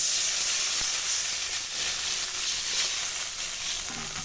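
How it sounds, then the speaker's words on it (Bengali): Brinjal (eggplant) lightly fries in a pan, giving an even, continuous sizzling hiss at moderate level with no voices over it. "বেগুনটা হালকা ভেজে নিচ্ছি প্রায় বেগুনটা হালকা ভাজা হয়ে গেছে"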